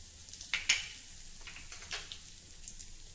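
Cumin seeds hit hot oil in a wok and crackle in a soft, scattered sizzle, with a few sharper pops and ticks over a quiet background hiss, faint and close.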